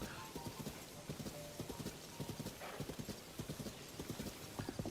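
A horse trots in a video game, its hooves clip-clopping in a quiet, steady rhythm of paired beats over a soft background hiss.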